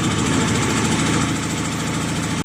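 A truck's parking air conditioner runs with a steady, even engine-like drone and constant vibration, loud and close, with no voices.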